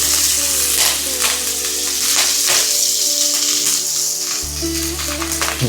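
Green chillies sizzling in hot ghee with mustard seeds, a continuous close frying hiss with stirring clicks and scrapes against the pan.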